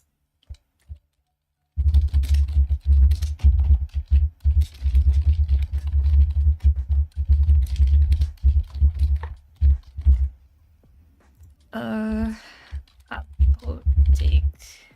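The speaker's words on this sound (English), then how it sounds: "I can type so well" Rapid typing on a PC computer keyboard, dense runs of close, loud key clicks with brief pauses between bursts, and a short stretch of voice partway through.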